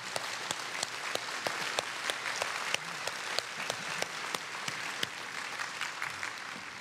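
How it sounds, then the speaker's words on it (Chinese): Audience at a Taiwanese business chamber opening ceremony applauding a president, a dense steady clapping from a large hall crowd, sustained and even with sharp individual claps standing out near the microphone. "我们用最热的掌声感谢惠树仁总统"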